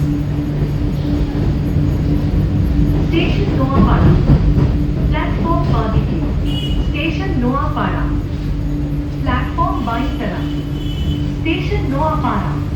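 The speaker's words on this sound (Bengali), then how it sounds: "এই মেট্রো লাইন ঢুকে গেল, আর একটা ওদিককার ট্রেন বেরিয়ে যাচ্ছে" A Kolkata Metro train on the Noapara–Airport line pulls into a platform, a constant loud low rumble with humming motor tones, while another train leaves and a person talks over it throughout.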